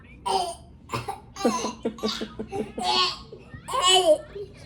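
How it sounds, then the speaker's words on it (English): A child coughs a few times in short bursts, mixed with giggly vocal sounds and brief speech, close up. "you're just making me cough"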